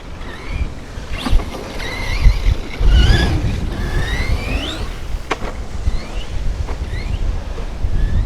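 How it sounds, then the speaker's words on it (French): Heavy wind on the bank of the Seine buffets the microphone with a constant low rumble and gusty bursts, while faint birdsong chirps in the background. "désolé pour le vent"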